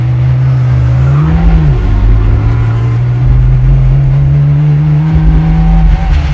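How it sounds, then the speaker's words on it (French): A homemade sports car engine, built from scratch, hums loud and close with a steady drone that briefly rises in pitch like a short rev, then settles back to an even idle-like tone. "Écoutez le son du moteur, oui, je l'ai fait moi-même"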